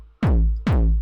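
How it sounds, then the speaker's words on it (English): Two heavy 909 kick drum hits run through Fruity Blood Overdrive distortion, each a loud booming thump with a dropping pitch and a gritty, amp-like sustained tail, alone and evenly spaced. "you can also use Fruity Blood Overdrive, and it gives it a sort of guitar amp sort of style."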